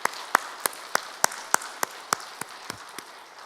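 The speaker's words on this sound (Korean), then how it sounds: "우리 하나님께 영광 박수 한번 같이 돌리겠습니다." Sparse, sharp claps ring out in a church during a Sunday worship service, about a dozen distinct hand strikes at a loose, uneven pace, echoing in the room rather than forming full applause.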